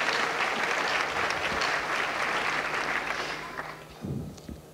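A church congregation applauding, dense sustained clapping that fills most of the stretch before thinning out toward the end, with a brief voice near the close.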